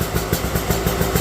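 A Beta dirt bike with its automatic oiling removed sits idling, the engine's steady, slightly uneven putter thumping close and loud with no voices.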